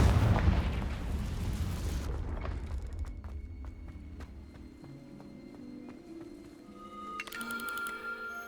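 A Confringo fire spell detonates in Hogwarts Legacy gameplay, a heavy rumbling blast at the start that decays over a couple of seconds into quieter game ambience, with a bright chiming effect near the end.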